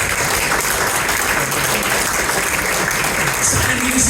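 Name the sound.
audience applause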